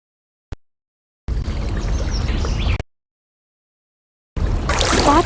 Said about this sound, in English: Spots where the water moves really fast are called rapids.